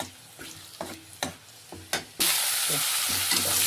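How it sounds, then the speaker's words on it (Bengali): Greens hit a hot pan of oil with dried chili and garlic, starting with a few short scraping stirs before a sudden loud, steady sizzle takes over, close up with no talk. "এখন আমি শাকটাকে ঢেলে দিলাম"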